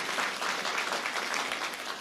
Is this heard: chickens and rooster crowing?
no